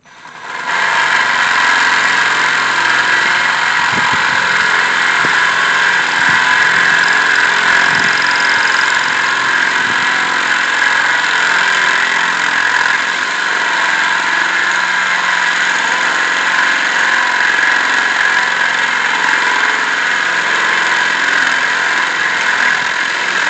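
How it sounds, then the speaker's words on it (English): A power drill with a large bit bores a hole in a pot, a steady high whine that holds evenly for over twenty seconds, close and loud with no talk. "I was letting the drill bit do the work"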